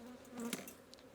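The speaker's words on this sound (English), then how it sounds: "Okay, so we've gotten all the bees down into that box." A steady hum of many honeybees buzzes close by as a colony is shaken down into a box while a hive is being split, a dense continuous drone with no voices.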